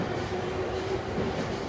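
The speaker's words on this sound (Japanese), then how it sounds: "まもなく5番線に湘南新宿ライン東海道線直通特別快速小田原行きが参ります。" A Shonan-Shinjuku Line rapid train, through-running to the Tokaido Line and bound for Odawara, pulls into platform 5 at a Japanese station, a low continuous rolling rumble with a faint steady tone, quiet and unaccompanied by speech.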